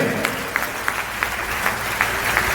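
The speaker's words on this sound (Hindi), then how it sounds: "तालियां हो जाए एक बार शानदार" A seminar crowd in Sultanpur claps, a short burst of applause with a few sharper claps standing out at regular intervals over a steady room din.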